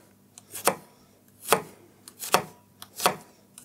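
A knife chops on a cutting board, slicing an ingredient into long strips for homemade remoulade, five or six crisp, separate cuts at an uneven pace, close and clear with no talking.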